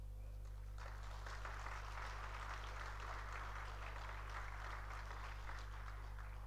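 An audience claps at the opening of APISLOVENIJA 2022, a moderate, even burst of applause heard faintly over a strong steady electrical hum.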